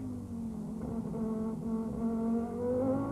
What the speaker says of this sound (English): Down the main straight they come at around 260 kilometers an hour, and Stuck is going to have a look